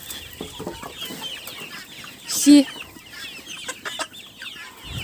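Young chicks crowd around a drinking waterer in a backyard flock on a hot day, giving soft scattered clucks and peeps with one brief louder call midway, and a voice briefly speaks.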